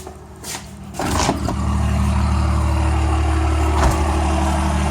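A crew cab first-generation Cummins 12-valve diesel truck rumbles nearby with a deep, steady idle that rises after a clunk and settles into a loud, even drone.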